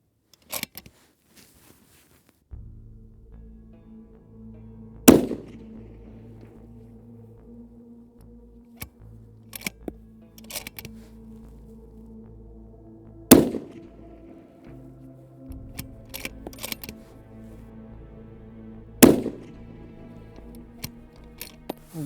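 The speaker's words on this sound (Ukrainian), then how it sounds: "Ще три постріла зробимо на 300." Several sharp rifle shots fired at 300 metres ring out, widely spaced over a low steady hum, each a single loud crack with quieter clicks between.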